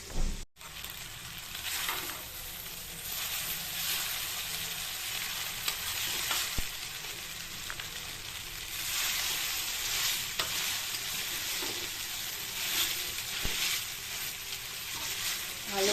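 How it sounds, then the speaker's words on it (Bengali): Noodles tossed and stir-fried in a hot pan with noodle spice mix, a steady sizzle with scraping stirs running throughout, close and fairly loud, with a few sharper clicks of the utensil. "এবারটা নুডলসটা দিয়ে দেবো"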